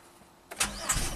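The engine of a Chevrolet Equinox cranks briefly after the key turns, a short close burst of starter and engine noise lasting under a second.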